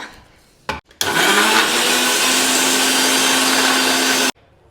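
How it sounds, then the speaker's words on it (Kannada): A mixer grinder blends a weight-gain smoothie, starting with a brief pulse and then running as a loud, steady whirring roar for about three seconds before cutting off abruptly. "ಫಸ್ಟ್ ಇದನ್ನು ಮಿಕ್ಸಿ ಮಾಡಿಬಿಡೋಣ"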